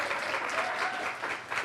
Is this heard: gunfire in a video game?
no